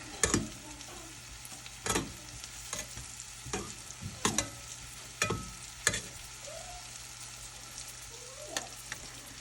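Floured meat pieces brown in a pan with a low, steady sizzle, broken by several sharp utensil scrapes and clinks as the pieces are stirred and turned.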